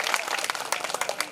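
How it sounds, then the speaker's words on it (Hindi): A crowd at a Bhagwat katha religious gathering bursts into brief applause, with sharp, scattered hand claps of moderate loudness rising and falling through the moment. "ताली बजाओ भैया के लिए"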